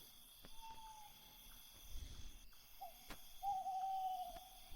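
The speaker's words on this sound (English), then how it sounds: "I've never seen the birds around here, though you can hear them everywhere" Forest bird calls in a video game, soft drawn-out hooting whistles sounding a few times over a quiet ambient bed with faint insect-like hum and a couple of clicks.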